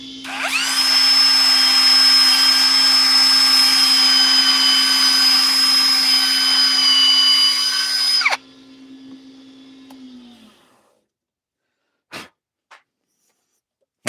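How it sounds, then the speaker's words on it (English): A steady, loud electric whine with a constant hum runs for about eight seconds as a woodturning piece is sanded on the lathe, then winds down, followed by a few faint clicks. "I'm going to sand it first, though."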